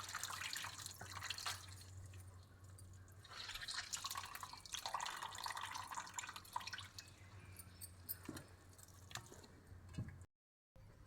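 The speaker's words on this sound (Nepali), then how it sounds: "म यसरी तातो पानीमा यही केलाको च्याउ यसरी पखाल्दैछु।" Oyster mushrooms being rinsed by hand in a bowl of hot water, with steady close splashing, dripping and squishing of wet mushrooms, plus a low background hum, ending in a brief silence.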